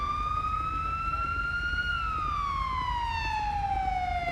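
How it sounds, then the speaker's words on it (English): An emergency vehicle siren wails outside, one long sustained tone rising slowly then gliding down, loud and steady over a low rumble of background noise. "Christmas music is currently being drowned out by the sirens. Do you guys hear those sirens?"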